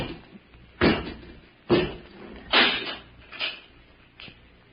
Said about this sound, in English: Come out and close the door, Robot 2.